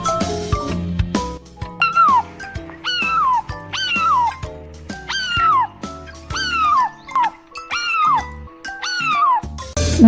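A cat meows repeatedly, clear and close, with a string of drawn-out, falling cries spaced about a second apart.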